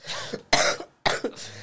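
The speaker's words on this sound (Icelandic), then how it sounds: "Ég er ennþá í smá hóstakasti" A person in a fit of coughing gives three harsh, close coughs separated by short gaps, with a small throat catch after each burst and no speech over them.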